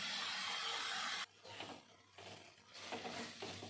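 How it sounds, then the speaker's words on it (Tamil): Tomato and onion sautéing in a pan, a loud sizzle that suddenly drops and then returns in waves of stirring and frying, close and unbroken by talk. "லேசாக ஒரு முக்கால் பழம் தக்காளி வெங்காயத்தை வதக்கலாம்"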